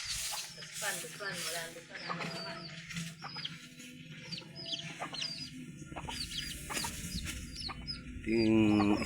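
Hens clucking and a rooster calling nearby, with bursts of chirpy fowl sounds and a brief louder squawk near the end.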